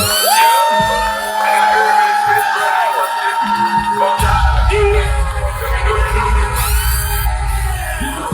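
A crowd at a trap poetry open mic whoops, yells and cheers loudly throughout, with music playing underneath and a deep bass line coming in partway through.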